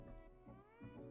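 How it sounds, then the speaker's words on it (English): A house cat meows in a few drawn-out, wavering calls close by, each cry rising and falling in pitch with short gaps between them and no talking over it. "that was the cat"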